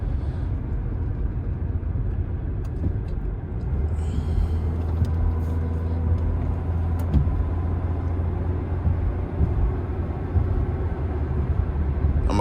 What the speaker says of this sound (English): I left my car running like an idiot